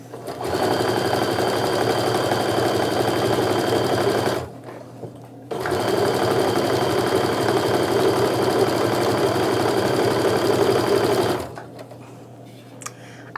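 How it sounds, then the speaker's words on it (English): A sewing machine joins a quilt row in two long, steady runs of rapid stitching, separated by a brief pause and ending in near silence. "So I'm going to go ahead and sew this row together real quick"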